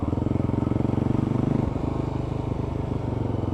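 A motorcycle exhaust throbs loudly and close in a fast, even pulse at steady revs, with a brief dip partway through before the rumble carries on alone.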